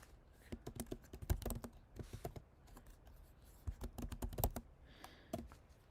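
A name is typed on a computer keyboard in bursts of quick, crisp key clicks with short pauses between them, close and fairly quiet, with no talk.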